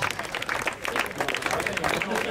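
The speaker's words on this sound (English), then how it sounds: "give a round of applause" Spectators clap after a testimonial rugby match, a brief burst of crowd applause running under a voice speaking over it.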